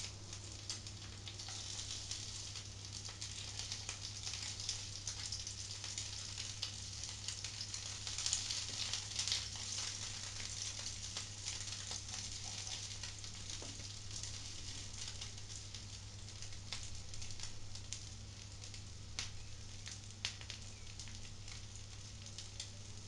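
A tuna pancake with egg frying in a pan, giving a soft, even sizzle with light crackles over a low steady hum throughout, fairly quiet.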